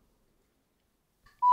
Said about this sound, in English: So simply wait till you hear this beep sound.